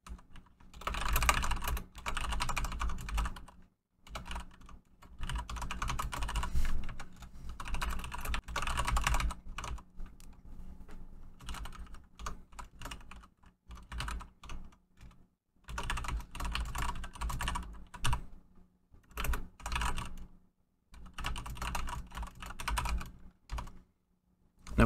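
Steady typing on a computer keyboard while writing a Roblox Studio script, close-up clicking keys in bursts separated by short pauses, with no talking.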